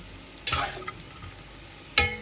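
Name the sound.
nuts frying in oil while stirred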